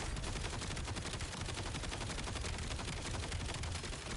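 Sustained rapid gunfire from a weapon in Black Ops 7, a dense, continuous burst of shots filling the whole moment at steady loudness with no voices over it.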